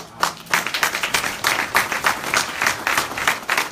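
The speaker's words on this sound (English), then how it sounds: "So I know the claps are soft" An audience claps softly and unevenly, a small group's scattered hand claps with a loose rhythmic pulse that continues steadily for a few seconds.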